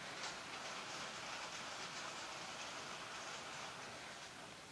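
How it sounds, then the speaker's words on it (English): Hail falls steadily outdoors as a dense, unbroken hiss and patter, constant in level and filling the background with no voices over it. "That's hail."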